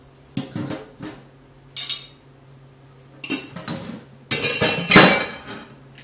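Dishes and cutlery clink and clatter in several separate bursts, growing louder toward the end, with no talking.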